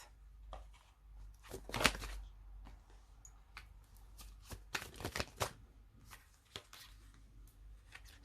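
Vision Quest Tarot cards shuffled by hand in irregular papery bursts, with a louder riffle near the start and a cluster of quick snaps midway, close and quiet with no talking.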